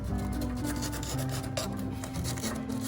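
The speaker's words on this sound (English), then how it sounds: "just clean it up so we have bare metal and there's no impurities between the solder and the connection" Rough rhythmic rasping of an abrasive scrubbing a motorbike electrical connection down to bare metal, a close, continuous scratchy back-and-forth filing sound.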